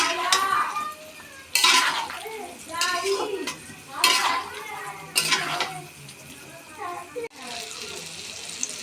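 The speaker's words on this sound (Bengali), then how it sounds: "তেলে কষাতে থাকবো" Mango pickle stirred in oil in a pan produces a series of sharp metallic scrapes and clinks from the spoon, about half a dozen distinct strokes at an uneven pace, close and clear.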